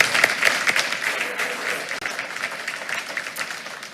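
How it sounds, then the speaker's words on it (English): A school board meeting audience gives a student of the month a round of applause: a dense, steady wash of many clapping hands from a room crowd, fading slightly toward the end. "Let's give him one more round of applause."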